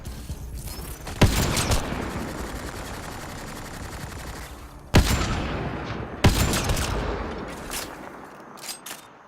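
Gunfire in the video game Mass Effect Andromeda: three sharp, loud weapon blasts, each followed by a long decaying burst of rattling fire and mechanical clatter, with no talking over it.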